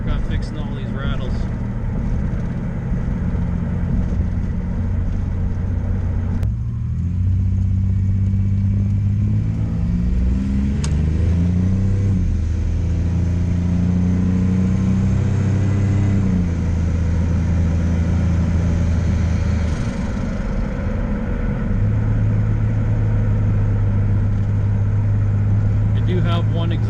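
Inside a Chevy C1500 pickup with a turbocharged 3100 V6 and a new muffler, a steady engine drone rises and falls through gear changes and revving, with someone talking over it.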